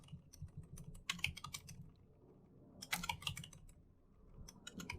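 Python code is entered on a computer keyboard in dense flurries of close, crisp key clicks, with two louder bursts and steady softer tapping between them.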